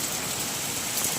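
Heavy rain pours down in a dense, even wash of hiss and patter, steady and close for a brief moment, with no voices.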